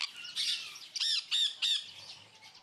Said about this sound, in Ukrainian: За ці кошти гості насолоджуються компанією птахів досхочу.